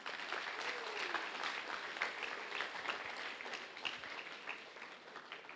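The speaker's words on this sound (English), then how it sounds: "So let's clap for him." An audience at an awards felicitation ceremony claps continuously, a dense, even patter of applause heard faint and somewhat distant throughout.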